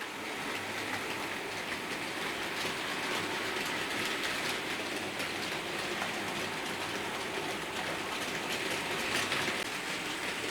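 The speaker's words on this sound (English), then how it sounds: "here comes the Class 70 going over the 241" A model Class 70 locomotive runs over Peco ST-241 points, giving a steady close rolling rumble with faint clicking wheel noise, continuous and unbroken throughout, with no voices.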